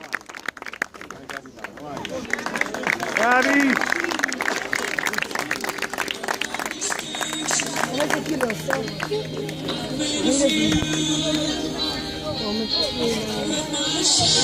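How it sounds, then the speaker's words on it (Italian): Applause and clapping from a crowd at a Christmas tournament award ceremony, sustained for several seconds at moderate loudness amid crowd chatter and hubbub, with people talking over it. "un applauso a questo ragazzino"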